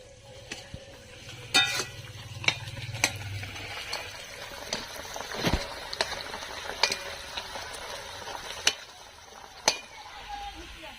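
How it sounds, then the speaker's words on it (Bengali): A metal spatula breaks up and stirs olives in a pan while making olive pickle, giving scattered sharp scraping clicks over a low, steady sizzle, close by and moderately quiet. "জলপাইগুলো এবার আমি আস্তে আস্তে খুন্তি দিয়ে ভাঙতে থাকবো"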